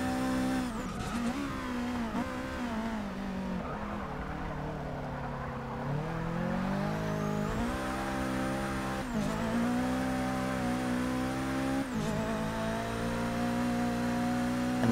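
A race car in Forza Motorsport 6 drones on at high revs with a steady engine whine that sweeps up and down through gear shifts and corners, the sound continuous and dense from start to finish.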